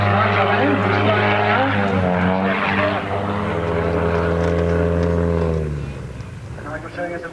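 Nigel Lamb's aerobatic propeller plane performing an instructor turn, its engine a droning tone that bends in pitch as it manoeuvres, then fades toward the end, with a commentator talking over it.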